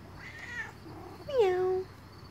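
A pet cat at home gives two meows: a short, faint one first, then a louder, sliding meow up close, with quiet room noise in between.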